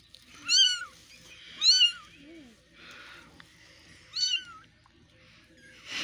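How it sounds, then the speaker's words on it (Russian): A ginger cat meows several times, close and clear, with high wavering cries spaced a second or so apart over a quiet room with faint low rustling. "Вот этот мне нравится больше. Рыжий кот."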